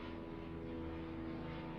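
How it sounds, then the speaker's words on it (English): Propeller airplane flying overhead, heard through open windows as a steady, faint droning engine hum with a low rumbling buzz that holds constant for the whole moment, with no talk over it. "I have all the windows open so you can hear that airplane."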